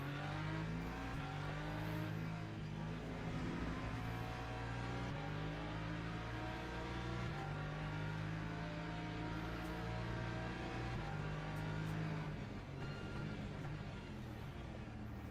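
A race car in a racing video game holds a loud, continuous engine drone whose pitch steps up and down through gear changes and braking, steady for the whole stretch with no voices.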